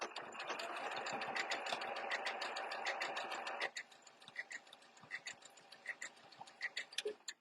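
A sewing machine stitches a twin needle topstitch in a fast, steady whir up close, then slows to short, separate bursts and ticks as the stitching eases off.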